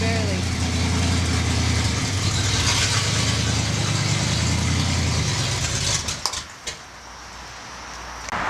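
A 1986 Ford F250 truck engine idles steadily with a low, even rumble during a throttle position adjustment, a few sharp clicks and knocks near the end; voices speak over it.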